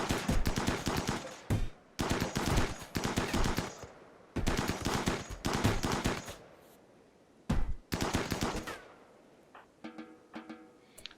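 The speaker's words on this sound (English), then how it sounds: "the poor remainder of this raid is just being lined up and shot" Loud bursts of video game gunfire as raid prisoners are lined up and shot, several long sustained volleys separated by brief gaps, then scattered lighter shots, no talking.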